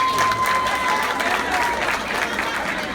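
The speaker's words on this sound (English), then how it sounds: "Give him a round of applause." Audience applause at a school talk, a steady wash of clapping filling the room with some crowd noise and voices mixed in, holding at an even level throughout.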